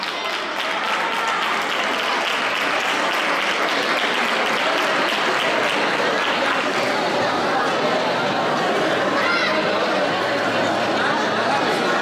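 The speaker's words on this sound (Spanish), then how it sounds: "Un fuerte aplauso para Juan José." Loud, dense applause from a crowd honouring a primary school prize winner at an orange-month community event, a continuous roar of clapping lasting throughout with chatter mixed in.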